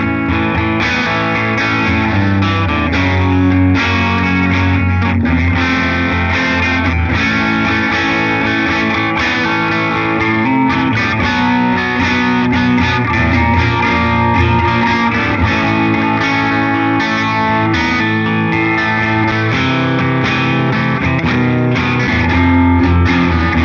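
Electric guitar played through a Positive Grid Bias amp with a subtle room reverb, a steady, full, slightly distorted tone held at an even loudness throughout with no talking.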